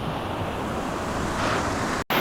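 Faurara Falls in the Tahitian jungle pouring clean water into a creek below a rock amphitheatre: a loud, dense, continuous roar of falling water, close and unbroken, cut briefly by a short gap.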